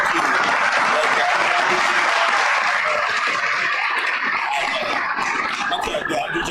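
Continuous crowd clapping at Magic City, loud and even throughout with a broad wash of hands and some murmuring voices from the crowd blended underneath.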